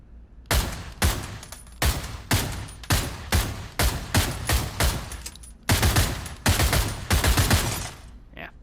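Assault rifle fire in the Pavlov VR shooter game on PSVR 2, a loud, close run of sharp shots in evenly spaced bursts and single rounds with brief gaps between volleys.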